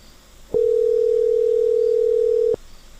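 A single steady telephone tone from a call being placed, loud and unbroken for about two seconds, then cutting off abruptly. Faint room noise sits before and after it.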